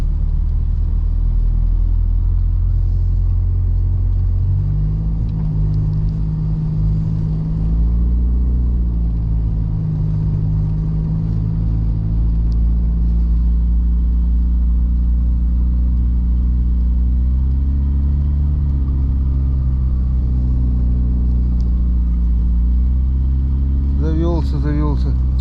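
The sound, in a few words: car engine started and running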